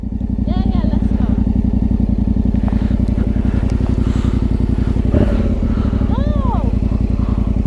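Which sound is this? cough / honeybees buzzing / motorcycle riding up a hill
motorcycle riding up a hill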